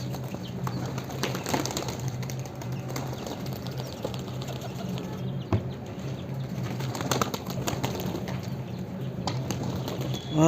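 Domestic pigeons coo softly amid scattered wing flaps and rustling, with occasional sharper flutters of takeoff, fairly close in a quiet space.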